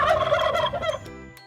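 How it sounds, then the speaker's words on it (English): A farm turkey lets out one loud, close gobble, a fast, warbling burst of rattling calls that fades away after about a second. "What sound do turkeys make?"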